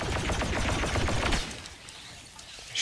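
Rapid turret fire picking off droids in Star Wars Battlefront 2, a dense rattling burst of shots that runs loud for over a second and then drops to quieter scattered background noise, with no voices.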